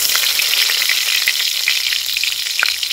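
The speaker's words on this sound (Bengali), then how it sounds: "ফোড়নে শুকনো লঙ্কা দিলাম, তেজপাতা দিলাম," Dried red chillies and bay leaves sizzle in hot oil as a spice tempering, a loud, close, steady crackle with no voices over it.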